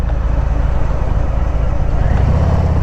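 A 2020 Harley-Davidson FXDR rides through a corner, its engine a loud, steady low rumble mixed with wind noise, close up and continuous.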